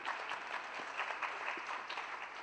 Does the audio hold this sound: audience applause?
yes